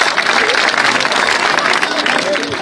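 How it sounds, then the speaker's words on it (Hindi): Dense crowd applause fills a packed public rally at Gandhi Nagar in Gannaur, a steady, loud wash of clapping that holds evenly for the whole stretch with a busy murmur of voices mixed in. "जोरदार तालियां।"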